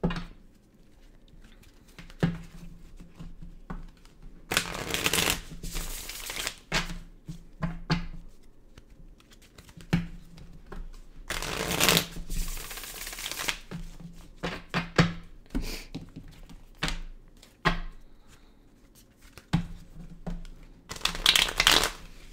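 Tarot cards shuffled by hand in several separate bursts of crisp riffling and flapping, close and fairly loud, with quieter handling sounds between bursts and no talking.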